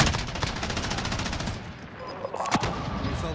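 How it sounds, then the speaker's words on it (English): Rapid automatic assault rifle fire in Warzone, a dense stream of sharp, loud shots that rattles on, pauses briefly, then resumes with a few closer bangs. "Assault rifle."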